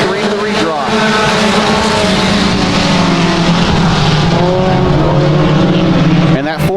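Mini stock race cars roar around a dirt oval during a heat race, engines loud and close, revving and droning steadily with pitch shifts as the pack passes, filling the whole stretch.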